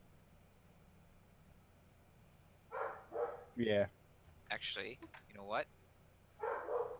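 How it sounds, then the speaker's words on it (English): Dogs bark in short bursts in the background of a casual online Dungeons & Dragons 5E session, mixed in with nearby conversational speech. "Sorry about the dogs."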